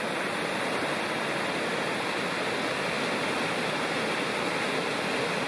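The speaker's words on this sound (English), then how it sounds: "South Fork of Citico Creek." Rushing water of the South Fork of Citico Creek in the mountains, a steady broadband roar of a fast stream or cascade running loud and continuous with no voices.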